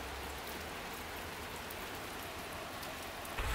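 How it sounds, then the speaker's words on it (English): Steady rain falls outdoors on a wet day, a dense and even hiss of drops on surfaces that continues unbroken throughout without any voices. "even though it's raining."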